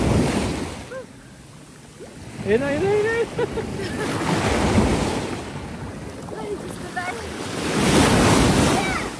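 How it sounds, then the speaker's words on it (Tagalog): Strong ocean waves surge and crash in loud swells on a La Union beach, with wind buffeting the microphone, while someone speaks briefly over the roar. "Ang lalakas ng alon, kaya pala walang gaano naliligo."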